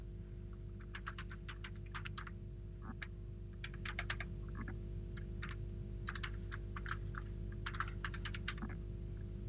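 Light, quick clacking of fingers typing on a computer keyboard, coming in several short bursts with pauses, close and faint over a steady low hum.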